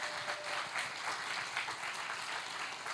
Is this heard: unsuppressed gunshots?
no